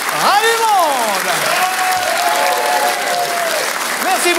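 Audience applause at a Saturday-night Pigalle cabaret show, a dense clapping wash heard beneath a prominent sliding, wavering tone that sweeps up and down through most of the clip.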